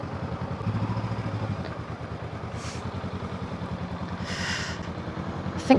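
Honda CL500 motorcycle ridden by a beginner, its engine putting out a steady, rhythmic low throb with road and wind noise throughout and a faint clatter toward the end.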